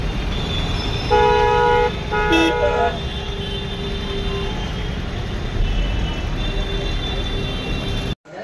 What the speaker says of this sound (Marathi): पण ट्रॅफिक लागलेली आहे.